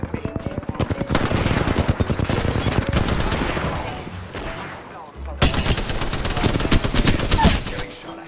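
Sustained automatic gunfire from an Apex Legends match, dense rapid bursts crackling close and loud with a short pause before another heavy volley erupts, no voices over it.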